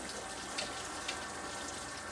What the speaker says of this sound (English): Some nice hot water. I just swirl that out a few times